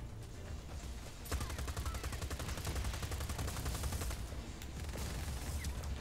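Sustained rapid automatic gunfire in Just Cause 4, a dense steady rattle of shots lasting several seconds over a low rumbling background, with no talking.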